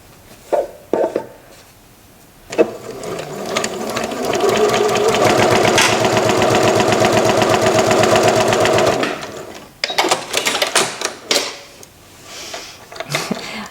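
A sewing machine stitches quilt binding in a steady, loud mechanical whirr lasting about six seconds, bracketed by handling clicks and fabric rustling before and after.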